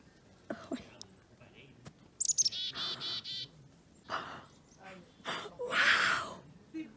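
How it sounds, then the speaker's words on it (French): Black-capped chickadees chirp outdoors in winter as bright, short calls and a few longer chirping runs, close and clear, while people nearby talk softly and whisper between the calls. "des mésanges à tête noire"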